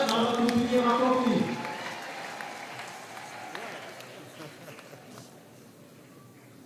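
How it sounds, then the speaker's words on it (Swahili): A church congregation at a parish anniversary Mass claps loudly to welcome a district commissioner, then the applause fades away over several seconds while voices continue underneath. "Naomba tusimame tukaribishe mkuu wa wilaya kwa makofi ya kutosha."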